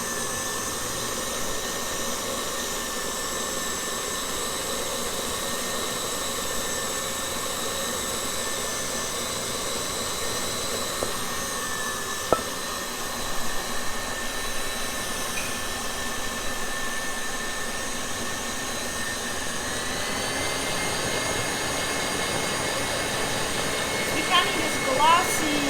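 An electric stand mixer whirs steadily, beating meringue for macarons while hot syrup is poured in, a constant moderate drone with a brief clink partway through.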